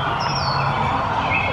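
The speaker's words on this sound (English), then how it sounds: "Oh, look at the bird. It's a starling." Starling calling with a few faint high chirps and whistles over a steady broadband background hiss, fairly distant and quiet.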